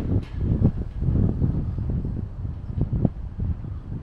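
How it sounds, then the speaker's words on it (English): Wind gusting across an open commercial site where vehicles are being unloaded, heard outdoors as a steady low rumbling buffet on the microphone that lasts throughout without letting up. "Blimey, all of a sudden it's got really windy."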